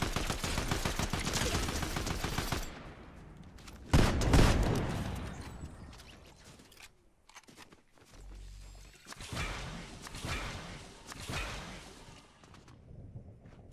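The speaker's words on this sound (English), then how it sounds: "Who was he shooting at?" Rapid video game gunfire rattles in long automatic bursts, with a heavy loud blast partway through, then a lull and more volleys that are a little farther off.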